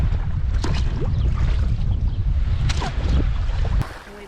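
Oars dip and pull through the water as a small boat is rowed between remote coastal villages, with splashes and creaks over heavy rumbling wind noise, then the wind drops away sharply near the end.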